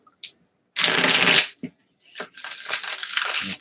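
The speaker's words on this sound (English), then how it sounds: "I am going to shuffle." Tarot cards being shuffled close by in a few distinct bursts: a short riffle, a longer flurry of flicking cards, brief pauses, then another extended shuffle.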